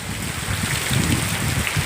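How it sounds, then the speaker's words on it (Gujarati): Heavy rain pours down steadily on a farm, a dense continuous hiss of drops hitting surfaces up close, with no voices. "વરસાદ પડવા માંડ્યો કેટલો વરસાદ પડે છે"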